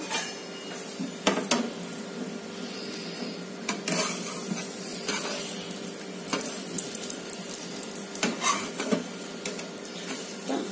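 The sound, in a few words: bread omelette frying and being flipped in pan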